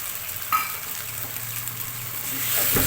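Raw jackfruit being stirred with ground masala paste in a pan, a steady close sizzle with scraping and stirring strokes throughout, slightly louder toward the end, no voices.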